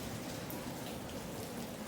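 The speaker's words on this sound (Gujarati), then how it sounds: "આમ જો તમે વરસાદ ચાલુ છે" Steady rain falling at the Ratneswar Mahadev temple, a soft continuous hiss of drops on surfaces with no pauses, fairly quiet and even throughout.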